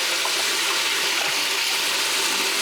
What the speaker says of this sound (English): I'm going to wash my hands up